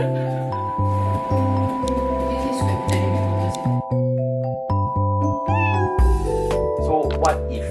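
A cat meows repeatedly in clear, close, tonal cries, one after another in a steady run with brief gaps, loud and prominent in a quiet indoor space.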